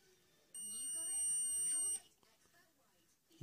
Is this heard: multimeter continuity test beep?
yes